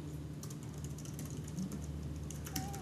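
Steady clicking of keys as code is typed on a computer keyboard, a quiet continuous patter over a low hum, with no speech.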